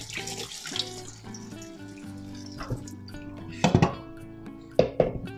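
Tap water runs into a kitchen sink while a cooking pot is washed, with a steady hum from the faucet and several sharp metallic clinks and knocks of the pot near the end.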